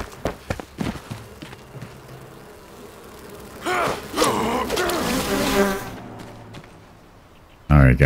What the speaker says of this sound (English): Got rid of those bees, nasty bees.